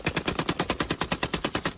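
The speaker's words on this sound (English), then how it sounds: "In this video, posted on social media, young gangsters show off their Kalashnikov." Kalashnikov rifle firing a rapid, steady automatic burst of about fifteen evenly spaced, loud shots, heard on its own without talk.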